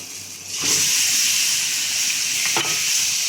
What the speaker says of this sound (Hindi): हम चिकन को 5 मिनट हाई फ्लेम पर भूनेंगे।